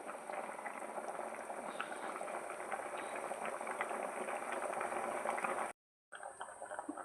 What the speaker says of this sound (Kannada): ಅಷ್ಟೊಳ್ಳೆ ಕುದೀತಾ ಉಂಟು, ಒಳ್ಳೆ ಕುದಿಬೇಕು.